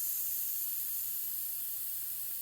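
Air hisses out of a tire through a valve tool, a steady bright rushing hiss that stays constant and fairly loud for the whole short stretch, with no voices.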